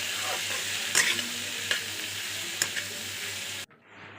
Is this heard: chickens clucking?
no